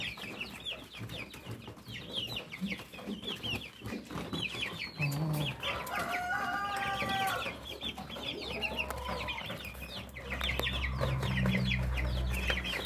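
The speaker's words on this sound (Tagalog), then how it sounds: "Yung natin mga sisiw natin na 1-month-old sa Rhode Island." A flock of one-month-old Rhode Island Red chicks and grown chickens clucking and chirping continuously, with a rooster crowing partway through, busy and close over steady farmyard background.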